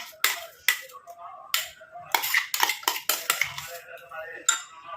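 Henna paste scooped and spread in an iron kadai, with sharp metallic scrapes and clinks of a spoon against the pan coming in irregular bursts, close and clear, with a little speech.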